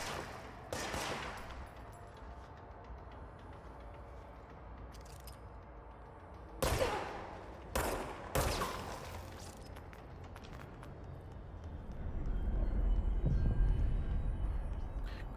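Enemy gunfire in the video game Control comes as sharp bursts of shots, several loud single cracks and short volleys over a low ambient rumble, with a swelling roar near the end.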